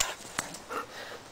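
Pet dogs pant softly close by, with a faint short bark, quiet and without talk.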